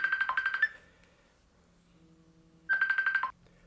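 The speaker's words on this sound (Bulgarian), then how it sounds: "телефонот ми звони" Mobile phone ringing indoors: two short bursts of a bright chirping ringtone separated by a quiet pause, moderately faint.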